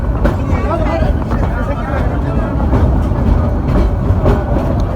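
Steady rumble of a passenger train ride in Bangladesh approaching Chittagong, a continuous low rolling drone with faint rail clatter throughout, with people talking over it.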